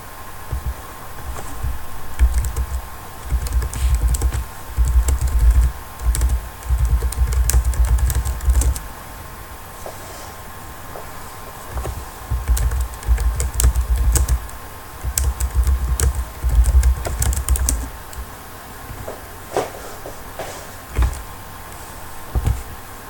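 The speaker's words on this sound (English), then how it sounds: "maybe you can hear me typing" Someone types on a computer keyboard in dense bursts of clattering keystrokes, with short pauses between bursts, close to the microphone for over twenty seconds.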